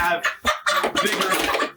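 Hens cluck and squawk in a busy, overlapping chorus, close by and fairly loud, with short bursts and brief pauses.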